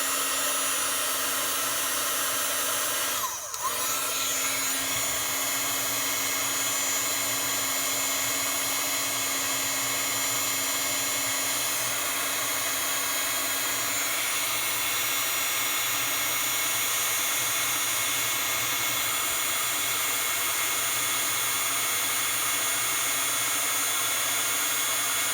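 A heat tool melts embossing powder from below with a constant, loud, high-pitched blowing whine like a hair dryer, running unbroken throughout apart from one brief dip near the start.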